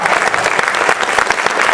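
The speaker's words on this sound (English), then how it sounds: "Yes, please, round of applause," An audience at an IndieCade 2011 panel claps and cheers loudly in dense, continuous applause throughout the short burst.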